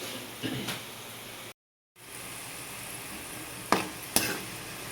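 Ivy gourd and garlic sizzle steadily in a pan, a close, constant hiss broken by a brief silence and a few sharp scraping stirs of the spatula.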